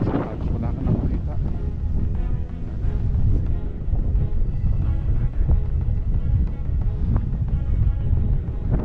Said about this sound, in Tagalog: Itong sitwasyon dito, lakas pa ng hangin.